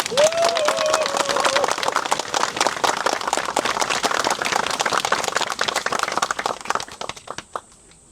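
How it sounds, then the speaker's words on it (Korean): Vigorous audience applause at a memorial ceremony, dense clapping from a crowd that carries on for several seconds, then thins out and trails off near the end, with a brief voice near the start. "김태환 열사 이주기 추모제를 힘찬 박수로 시작해 보겠습니다"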